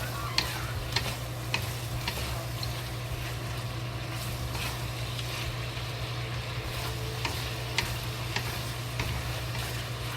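Pork and fennel stir-fried in a hot wok: a steady, close sizzle runs throughout, broken by sharp clicks and scrapes of the spatula against the metal, with no voices.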